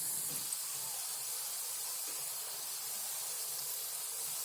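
Namak pare dough pieces frying in hot oil over medium heat make a soft, steady hiss of bubbling, faint and continuous with no voices.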